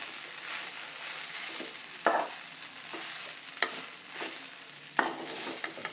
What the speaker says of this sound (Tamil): போட்டு நல்லா கிளறி விட்டுக்கலாம்.